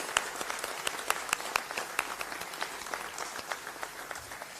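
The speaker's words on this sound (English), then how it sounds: "they all deserve a round of applause" Audience applause at a university moot court competition, a steady spatter of clapping from a modest crowd with sharp individual claps standing out, fairly distant and moderately quiet, continuing throughout with no talk.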